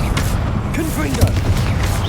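The Confringo blasting spell from Hogwarts Legacy goes off in a dense, loud booming rumble amid game ambience, with a voice briefly heard over it.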